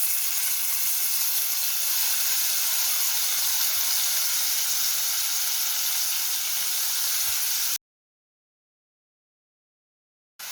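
Chopped onion added to hot oil with cloves, cardamom and a small piece of cinnamon stick, sizzling and hissing steadily up close for about eight seconds before a sudden silence.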